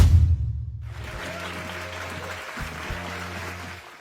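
A police station crowd applauding a team in a film scene, with dense, steady clapping from many hands mixed with a low music bed throughout.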